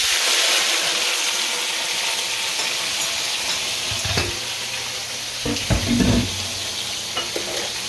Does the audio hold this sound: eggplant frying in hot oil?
yes